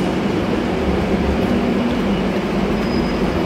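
Train rolling past at a station in Spain, a loud continuous rumble of wheels on rails with a faint squeal near the end, close and steady, no voices.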